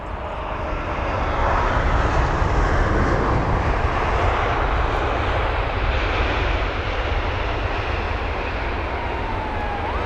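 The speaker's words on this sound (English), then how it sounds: "There is AI 165, the 787-8 Dreamliner with the reg VTANK" An Air India Boeing 787-8 Dreamliner arriving from Delhi at London Heathrow, its jet engines roaring loud and steady throughout, with a broad rumble and no voices.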